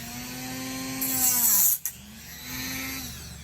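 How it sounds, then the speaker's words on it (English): Dremel rotary tool cutting a 3/32 exhaust pipe tube, a high whining spin whose pitch sags under load, bursts into a harsh grinding hiss as it bites through the metal, drops away, then spins back up briefly. "Just going to take my Dremel real quick and cut it off real fast."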